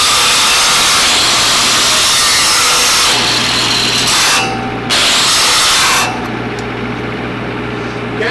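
Arc welding running downhill on a pipe produces a loud, continuous crackling hiss up close, with a low electrical hum that cuts in and out and a brief break as the arc pauses before resuming.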